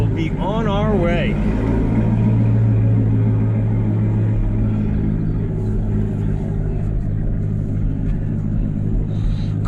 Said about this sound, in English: Here's my cold start, and we will be on our way.